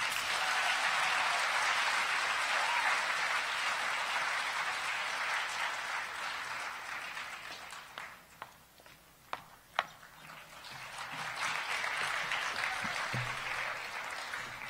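Audience applause after a speech at a community assembly, a steady wash of clapping that thins in the middle with a few sharp knocks, then swells again.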